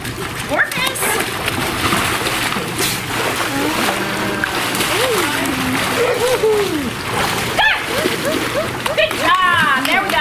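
Sea lion porpoising at an animal care center, leaping and splashing through the water in repeated bursts, with people talking and cheering throughout.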